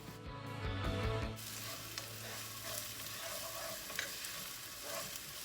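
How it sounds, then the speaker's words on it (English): Sliced jalapeno and green onions sauteing in a pan, a soft steady sizzle after some loud stirring and clattering at the start, fairly quiet and close with no talking. "We're going to saute these just till everything gets kind of nice and tender."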